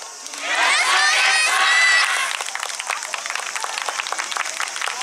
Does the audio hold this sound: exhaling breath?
no